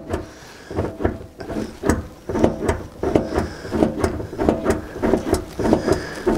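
A hand-operated soap dispenser pump pushes soap up a hose, giving repeated rhythmic squeaky clicks and plastic clunks, roughly two strokes per second, close and loud with no talking.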